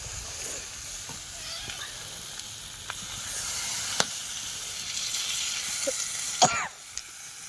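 Water poured into a pan of sizzling chicken curry being cooked on a winter morning, giving a steady frying hiss with faint stirring clicks and a brief louder burst of bubbling near the end.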